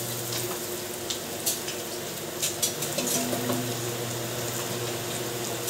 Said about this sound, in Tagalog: Hintay lang natin maluto yung mga sangkap. Tulad ng bawang, sibuyas at luya. Ayan, nililimbro na po siya.